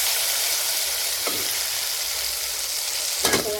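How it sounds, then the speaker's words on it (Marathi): Tomatoes frying and softening in hot oil for an eggplant curry, a steady close sizzle with a couple of brief stirring clatters, one near the end. "टमाट्याला मी तेलामध्ये करून देते असं नरम करून देते"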